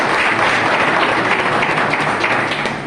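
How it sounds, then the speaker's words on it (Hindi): Audience applause fills a stage event honouring achievers, a dense, steady wash of clapping from many hands that stays loud and even for a few seconds with no voices over it. "एक बार तो उनके लिए तालियां बजाएं"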